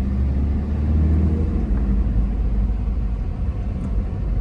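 A Tata Hexa with the Tata-developed Varicor 400 engine and 87,000 km on it, driving with a steady low engine and road rumble that stays constant and fairly loud, with no talk.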